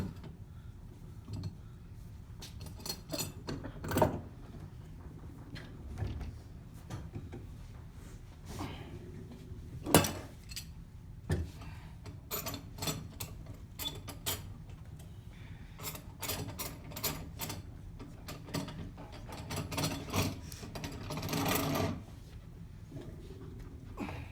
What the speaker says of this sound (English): I'm going to clamp this thing up